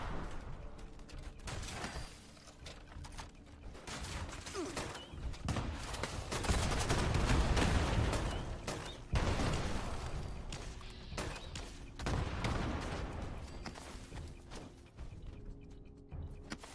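Grenade launcher fire in Fallout 76 during a daily op, fired at point-blank range. Dense, repeated blasts and bursts of gunfire run throughout, loud and close, with a heavy crescendo in the middle.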